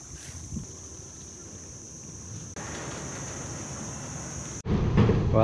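A boat motors past on a river at a fishing spot, a steady rumbling drone that shifts and grows louder toward the end, mixed with wind noise.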